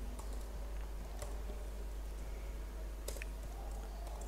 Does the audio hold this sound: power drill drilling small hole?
no